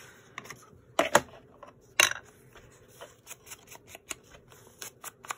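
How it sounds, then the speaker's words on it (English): Tim Holtz scissors cut paper for a Victorian-style postcard junk journal in a series of close, crisp snips, with a few louder cuts among quieter irregular clicks and rustles. "I love these Tim Holtz scissors."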